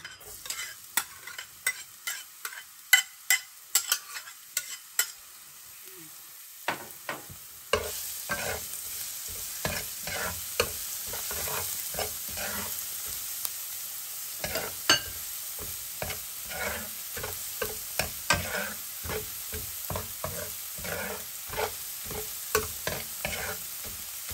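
Garlic sizzles in hot cooking oil in a pan, a steady bright crackle and spatter that jumps up in loudness after a few quiet seconds, with frequent stirring clicks and scrapes throughout.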